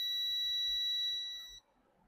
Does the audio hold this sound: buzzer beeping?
yes